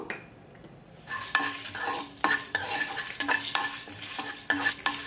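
Fenugreek seeds and broken dried red chillies fry in a hot pan, a steady sizzle breaking in after a quiet second, with repeated scraping stirs and clinks of a utensil against the pan.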